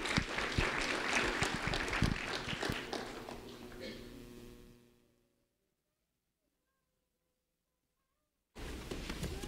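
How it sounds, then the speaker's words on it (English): An audience claps loudly and steadily for a fourth-grade student being honored at a sheriff's office ceremony, the applause fading out halfway before a sudden cut of silence and a return of noise. "a round of applause for Chance Taylor"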